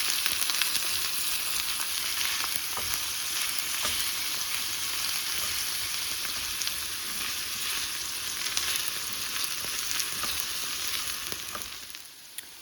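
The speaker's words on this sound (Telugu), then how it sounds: "వంకాయ ముక్కలు వేసుకున్న తర్వాత వేపుకోవాలి ఒక 2-3 నిమిషాలు." Eggplant pieces fry with onions in a pan for an eggplant cilantro curry, giving a steady, close sizzle that holds level throughout with no talk, then fades near the end.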